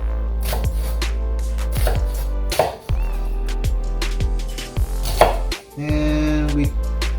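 A knife chops through a red onion on a cutting board in a series of crisp, close thuds at an uneven pace, over a steady low hum.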